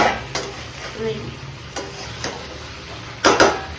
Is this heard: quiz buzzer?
no